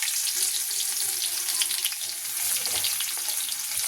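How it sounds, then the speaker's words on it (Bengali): Garlic frying in hot oil for tempering, a steady bright sizzle and crackle close by, continuous and fairly soft throughout with no talking. "তাহলে এবার রসুনটা ফোড়ন দিয়ে দিই, রসুন দিয়ে করবো ভোলা মাছটা।"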